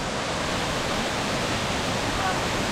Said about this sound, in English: Coming up on our next waterfall here.